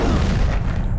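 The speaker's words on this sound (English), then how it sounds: "The old exploding computer trick." A computer blows up in John Carpenter's The Thing, a loud, deep boom with a rumbling burst that fills the moment and carries no talk.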